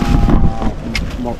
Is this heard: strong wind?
yes